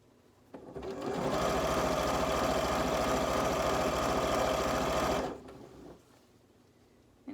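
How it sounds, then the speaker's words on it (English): A sewing machine stitching long fabric strips together, its steady loud whirring drone running continuously for about five seconds after starting up, then stopping and leaving quiet room tone. "I'm going to sew down the long way on this particular one."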